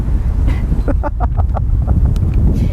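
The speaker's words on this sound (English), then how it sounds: "Oh my God, it's windy." Gusty wind buffets the microphone with a constant low roar, while a voice talks briefly over it.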